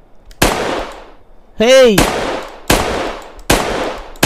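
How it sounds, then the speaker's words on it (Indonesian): Video game gunfire as Upin shoots at a Titan: four loud, sharp shots spaced about a second apart, with a brief warbling electronic effect between the first two and a short spoken word. "Upin akan tembak Titannya."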